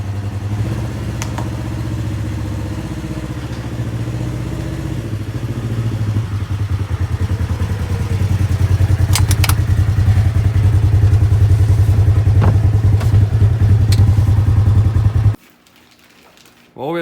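A Polaris RZR four-seat side-by-side engine runs steadily through a test drive after a frame swap and full rebuild, a loud, continuous low rumble that builds as it revs harder midway, then cuts out abruptly near the end.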